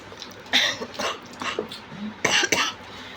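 A person with a cough and cold coughs several times indoors, in short harsh bursts that come in pairs with brief pauses between them, close and fairly loud.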